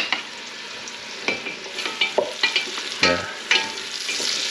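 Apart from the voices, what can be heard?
onions and garlic frying and being stirred in pan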